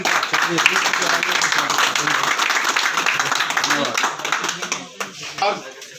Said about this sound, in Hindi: आप सभी से निवेदन के ताली बजाकर दोबारा